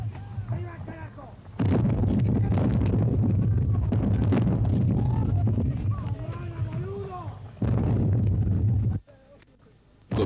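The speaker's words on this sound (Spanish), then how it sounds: "Comienza el desigual duelo de artillería." Battlefield artillery fire rings out in the Falklands War, with heavy booming blasts and a rumbling roar that swells and breaks off, while voices are heard through the noise.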